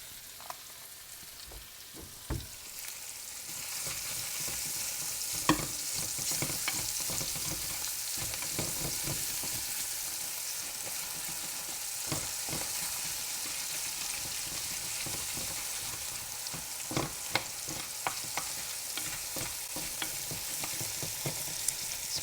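A spatula scrapes browned bits from the bottom of a skillet for smothered steak, over a constant sizzle, with repeated close scraping and tapping strokes in an uneven rhythm and no speech.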